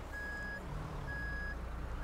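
An Iveco Stralis truck with a two-axle tipper trailer backs up in Euro Truck Simulator 2, sounding two long electronic reversing beeps over a quiet, low engine rumble.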